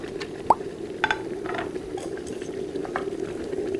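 Water with rice wine added bubbling at a steady boil, with a few soft plops and splashes as scored squid drops in and is stirred.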